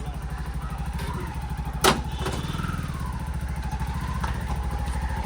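A motorcycle rickshaw engine runs close by with a steady, throbbing idle, broken once by a single loud thump partway through.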